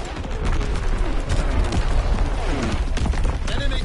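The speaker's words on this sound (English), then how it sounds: "incoming enemy artillery" Incoming enemy artillery fire in a PS4 shooter, a rapid barrage of blasts and shots rumbling continuously, loud and close, with voices under the clatter.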